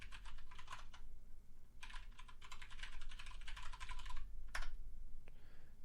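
Keys clatter on a computer keyboard in quick bursts of typing separated by short pauses, ending with a single sharper keystroke, close and fairly quiet against a faint room hum.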